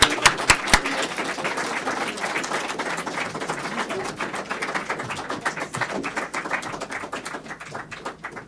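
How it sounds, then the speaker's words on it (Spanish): Sustained audience applause fills a seminar hall on economic policy and research, a dense crackle of many hands clapping steadily, with a few sharp individual claps at the start and no voices over it. "mientras les aplaudimos, muchísimas gracias a todos por estar con nosotros"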